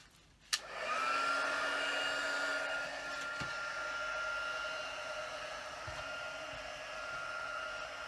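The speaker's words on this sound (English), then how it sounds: "I'm going to heat up the heat gun a bit." A heat gun warming up for craft embossing on a handmade Christmas card kicks on with a click and settles into a steady, loud blowing whoosh with a faint whine, running alone and evenly throughout.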